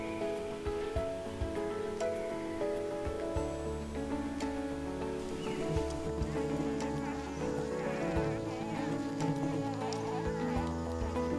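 A swarm of kelulut stingless bees drones in a steady, continuous buzz that holds for several seconds with no voices.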